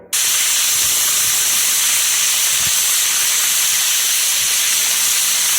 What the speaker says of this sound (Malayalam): നമ്മുടെ കണവ പീസാക്കിയത് മഞ്ഞൾപ്പൊടി ഉപ്പും ചേർത്ത് ഒരു പതിനഞ്ച് മിനിറ്റ് പ്രഷർ കുക്ക് ചെയ്യാൻ വേണ്ടി ഞാൻ വെച്ചിട്ടുണ്ട്